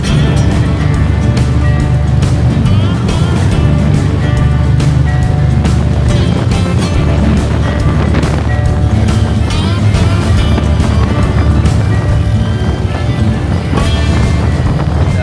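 A loud, continuous roar of Blue Angels jets flying overhead at an air show fills the air, rumbling and wind-buffeted, with occasional voices underneath.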